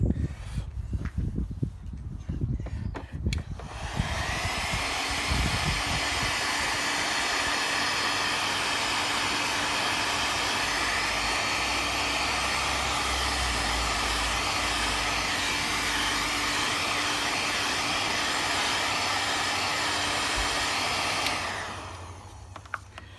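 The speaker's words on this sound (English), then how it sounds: "Going to give it a little bit more with the heat gun." A heat gun blows with a steady, loud, continuous roar as it shrinks heat-shrink sleeving onto an Audi A2 TDI wiring loom, starting after a few seconds of handling noise and cutting off near the end.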